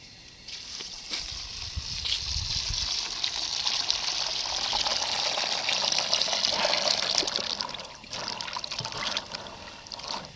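Running water from a tap washes food in a kitchen, a steady gushing and trickling stream that swells and then eases, heard alone and close.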